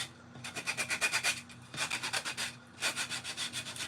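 Coarse 80 grit sandpaper rubbed over a small wooden sea turtle craft piece, giving rhythmic back-and-forth scratchy strokes in three close bursts.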